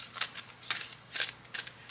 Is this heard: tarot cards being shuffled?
yes